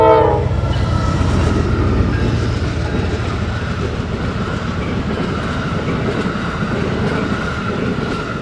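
Amtrak electric locomotive 145 leading train 42 passes Roy on the Keystone Corridor in winter, a loud steady roar of wheels and rail noise throughout, with a horn blast sounding at the very start.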